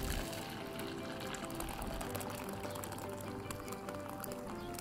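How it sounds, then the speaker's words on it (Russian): Boric acid solution being poured into a 3-litre glass jar, a steady, continuous liquid gush and fill sound, close and fairly quiet, with no talking. "Раствор борной кислоты выливаю в 3-литровую банку."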